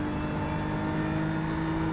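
A racing car engine in the iRacing game, a GT3 car at Fuji, droning at steady high revs, a tonal buzzing whine without pause, brief and fairly quiet.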